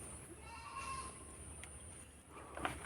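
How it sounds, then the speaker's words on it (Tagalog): Goat bleating on a Philippine farm with livestock, a faint bleat early and another near the end over steady outdoor background noise. "isisilong ko na rin yung kambing"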